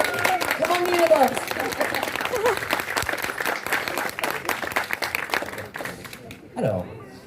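Convention audience applauding a guest on stage, a dense sustained wash of clapping with scattered cheers that runs for about six seconds before thinning out, a single voice rising near the end.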